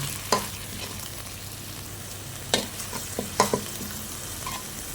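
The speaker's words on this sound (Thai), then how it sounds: "ผัดให้หอมเลยนะคะ" Curry paste sizzles softly in a pan under a low background hum, broken by several sharp scraping clacks of a spatula stirring and tossing it.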